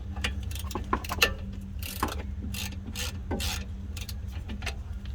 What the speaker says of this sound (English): Crack them both loose